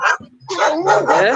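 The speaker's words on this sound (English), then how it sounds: "That's my dog's barking at a little furry thing walking past" A dog barking at a small furry animal walking past outdoors at a rock festival, a few quick yappy barks and whimpering yips close by, with a brief spoken word mixed in.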